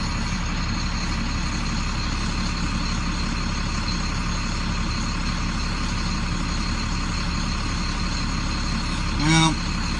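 A 2006 International heavy truck's diesel engine idles while warming up: a steady, loud, low rumble with no talk and a short hiss near the end.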